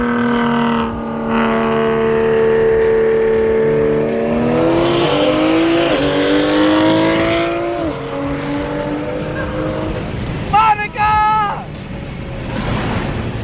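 Toyota Supra and Nissan GT-R accelerating in a racing video game, loud close engines climbing through several gear shifts, a roaring peak, then easing off with a brief tire squeal near the end.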